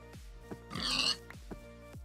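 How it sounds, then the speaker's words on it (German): Pigs in the video game Minecraft oink in short grunting bursts, several in a row with a louder snorting squeal in the middle, close and clear with no talk. "hier sind so viele Schweine"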